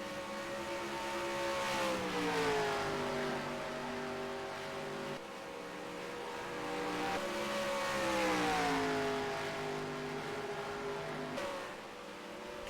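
Stock cars roar through a NASCAR racing video game fielding 2020 drivers in 1950s cars, engine notes rising and falling in long sweeping passes at a steady moderate loudness, with no talking over them.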